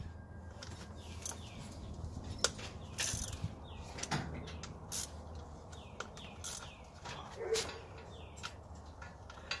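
A ratchet breaks bolts free on a Super Duty 6.0 oil cooler, with irregular bursts of quick clicking and metallic clunks between quieter pauses, close by, along with faint chirps in the background.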